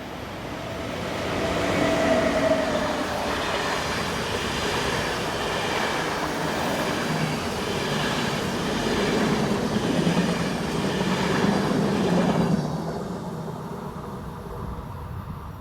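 EuroCity EC113 from München to Klagenfurt, hauled by Austrian electric locomotive 1116092, rolls past with a steady rumble and faint wheel clatter for about twelve seconds before fading slightly.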